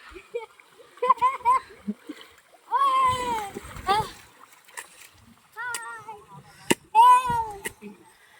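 People bathing in water splash about, with intermittent splashes under excited voices of children and adults shouting and talking throughout.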